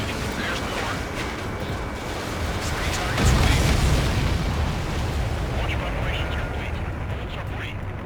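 A loud boom from an enemy transport destroyed in the flight combat game Ace Combat 7, swelling midway over steady jet and game noise while radio chatter continues throughout.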